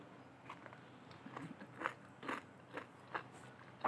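Crunchy stuffed okra being bitten and chewed close to the mic, a series of crisp crackling crunches repeating in a steady chewing rhythm, fairly soft overall and with no talking.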